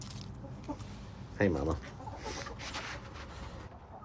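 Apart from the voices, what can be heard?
chickens clucking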